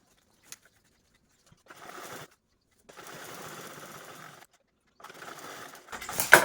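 A sewing machine stitches the side seam of a cloth bag in three short whirring bursts separated by quiet pauses, close and moderately loud, with a small click before the first run.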